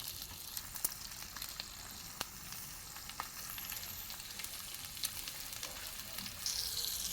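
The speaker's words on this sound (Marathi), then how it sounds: "हे आम्ही लोखंडाच्या तव्यात तळतोय" Steady crackling sizzle of fish frying in an iron pan on a wood-fired stove, with scattered sharper pops and spatters, close and continuous with no talking.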